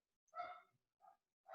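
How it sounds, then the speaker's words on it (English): A dog barks a few times from inside a home, one loud bark followed by shorter ones after brief pauses, fairly close and clear with no talking over it. "That's my dog. How many of you can hear my dog?"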